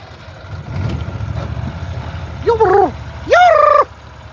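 Two loud gobbles from a nearby turkey ring out over a low engine-like rumble, one short and one longer.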